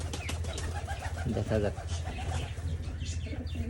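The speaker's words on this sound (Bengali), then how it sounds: "একটা ঘুঘু আনছি" A dove brought from a village pigeon market coos close by in a short, soft, throaty burst of warbling notes, with people talking and market bustle around it.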